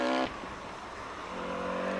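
A hillclimb race car's engine at the Donegal Hillclimb, loud and harmonic at first, then dropping away into a steady distant drone before rising again as it pulls up the course.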